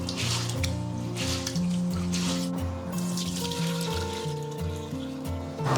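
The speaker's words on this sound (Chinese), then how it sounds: "我们先倒入清水给它淘洗一遍" Clean water poured over brown rice to rinse it, making a steady trickle and splash. Background music plays throughout, and no one speaks.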